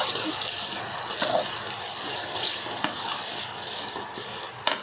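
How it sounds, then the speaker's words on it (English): Thai curry paste for a southern Thai lamb curry, frying over medium heat in a pan and stirred, giving a steady wet sizzle and bubbling with occasional faint scrapes, close-up and without speech. "you fry this paste at about 15 or 20 minutes"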